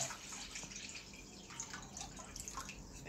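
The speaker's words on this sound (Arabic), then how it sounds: "على بركة الله نديرو 2 لتر ماء" Two litres of water go into a cooking pot, a soft, steady pour and trickle with faint splashes, quiet and close, with no talk.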